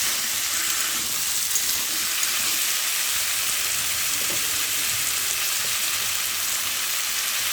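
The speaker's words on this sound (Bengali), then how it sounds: "দেখো আলু কচুটা ঢেলে দিলাম।" Taro and potato frying in a pan for a prawn curry give off a steady, close sizzle that holds evenly throughout, with faint stirring underneath and no voices.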